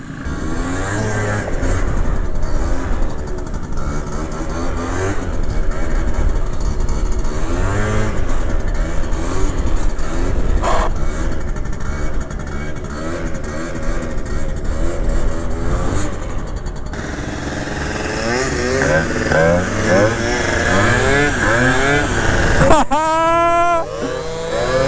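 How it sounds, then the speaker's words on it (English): Honda Dio Elite scooters, one fitted with a new exhaust pipe, ride past and rev hard, their engine pitch rising and falling in repeated sweeps near and loud, with people talking and a sharp final rev burst. "Damn, they got the fast bikes."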